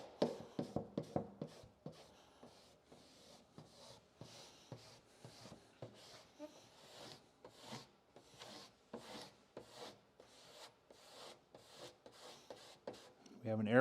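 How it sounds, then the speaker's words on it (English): Squeegee strokes slide over paint protection film on a Tesla Model 3/Y rear hatch, a run of soft rubbing swipes in a steady rhythm, fairly quiet and close, with a few sharper scrapes near the start. "Always want to make sure you're overlapping squeegee strokes."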